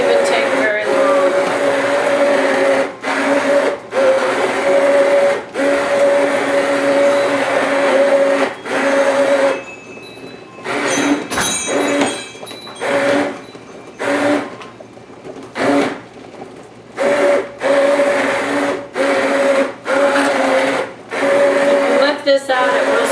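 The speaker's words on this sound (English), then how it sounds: "I'm going to use this immersion blender," Immersion blender whirring loudly through hot homemade salsa, a steady motor roar broken by brief pauses and restarts as it is switched off and on, with some speech in the gaps.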